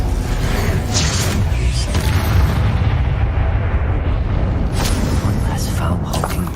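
The Confringo fire spell in the game Hogwarts Legacy goes off with loud, rumbling explosive bursts. Combat effects and a spoken voice run alongside the sustained boom.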